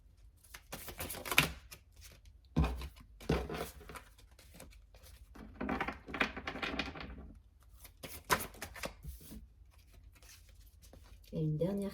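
Tarot cards are shuffled, slid and laid down in a string of soft papery flicks and brisk riffles, with someone speaking French quietly between them.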